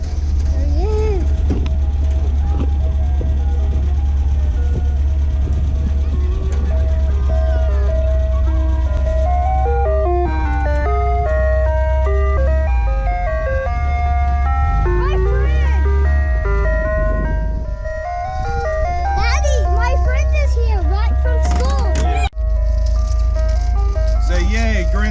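Melodic ice cream truck jingle playing loud and continuous, stepping through a bright tune over steady low engine rumble, with people talking over it near the end.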